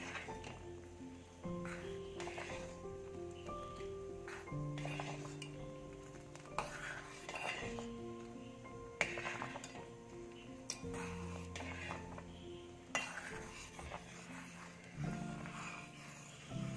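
A metal spoon stirs caramel semiya payasam in a pot, making repeated light clinks and taps against the rim and sides, spread evenly over a quiet background with a low tonal hum.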